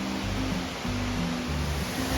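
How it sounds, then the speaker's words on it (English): Rushing water of a stream along a hiking trail, a loud, steady broadband wash filling the whole stretch, with a low engine-like drone underneath. "Made it across the stream."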